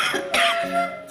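A woman coughs twice close by, short sharp bursts separated by a brief pause.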